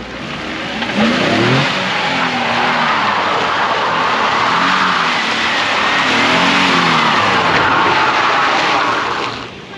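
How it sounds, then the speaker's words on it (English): A Nissan 350Z engine revs hard while tires skid and squeal for several seconds, loud and close, with rising and falling engine pitch throughout. "first skid in her new Z"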